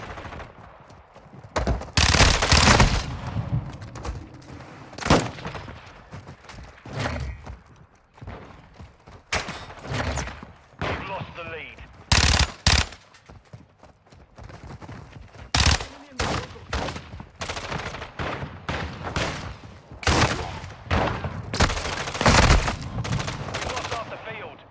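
Gunfire in Modern Warfare 2 during a team deathmatch on the Black Site map: loud bursts of automatic fire and single shots crack repeatedly through the clip, with brief lulls between volleys.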